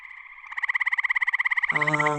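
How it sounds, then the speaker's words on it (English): Frogs calling close by, a fast pulsing trill that swells in loudness before a lower, buzzy croak takes over at the end. "Frogs calling. A sure sign that spring's on its way."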